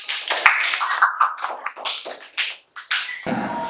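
Classroom applause from students, a brisk burst of scattered hand claps of moderate loudness that thins out and stops near the end.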